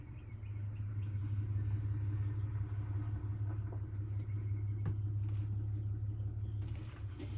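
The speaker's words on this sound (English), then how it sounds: "I hear the pickup truck." A pickup truck pulls up outside, its engine rumbling low and steady throughout, moderately near, with no voices over it.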